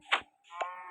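Cow mooing in the video game Minecraft, two short low moos in quick succession, close and clear with no talk.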